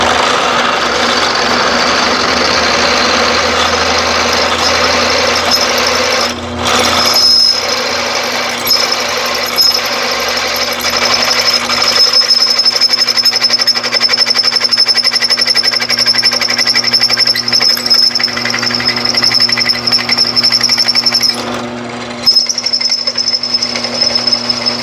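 Power drill boring a hole through a Corvair aircraft engine mount with a long bit, a loud, steady whining grind that runs continuously with two brief pauses.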